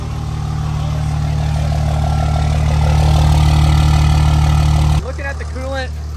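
Idling diesel engine of a 2nd-to-3rd generation 5.9 Cummins truck with a new manifold and turbo at 230,000 miles: a loud, steady low rumble for about five seconds, then it drops away and someone speaks over a quieter idle.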